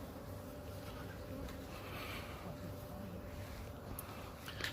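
A spring honeybee swarm hums in a steady, fairly faint drone that holds constant throughout, with no talking.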